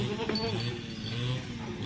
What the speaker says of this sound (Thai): มาเบิงแพะค่ะ มาเบิงแพะ แพะพันพื้นเมืองจ้า